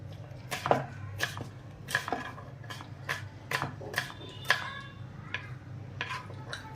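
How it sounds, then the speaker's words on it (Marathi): An onion chopped with a knife on a board while chicken biryani is cooked in a room, with a steady series of sharp, close knife taps at an even pace over a low background hum. "कांदा कापण्याची पद्धत बघायची, एकदम प्रोफेशनल टाईप आहे."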